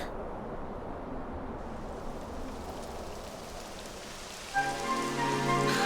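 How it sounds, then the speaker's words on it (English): Steady rain falls in the Dragon Quest video game, a dense, even hiss of rain on surfaces at constant loudness, joined near the end by a tonal musical chime. "It would have to go and start raining, wouldn't it?"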